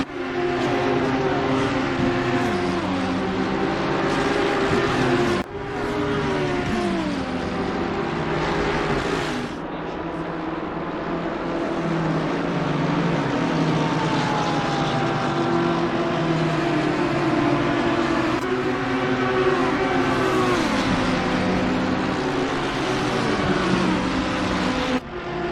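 GT3 race cars, an Audi and a McLaren side by side down the back straight in a racing video game, hold a loud, continuous engine roar whose pitch shifts as they shift gears, with no break throughout.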